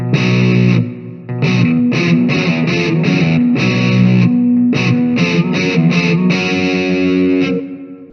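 A distorted electric guitar through effects plays the choppy power-chord riff of Pretty Fly (For a White Guy), with loud, close, rhythmic staccato hits between longer held chords.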